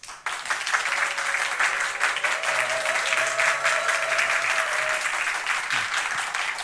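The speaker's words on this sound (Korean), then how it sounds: "우리 강사 목사님 나오실 때 우리 큰 박수로 우리 맞이하도록 하겠습니다" Church congregation at a teachers' seminar giving a big round of applause as the pastor comes forward, steady and full, with a low murmur and faint tones beneath.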